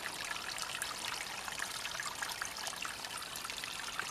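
Steady water trickles and splashes continuously into a pool, a soft, even babbling with no voices.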